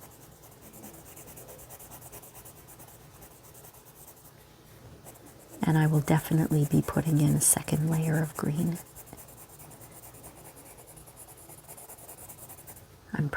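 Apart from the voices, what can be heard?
coloring stem and leaves with green colored pencil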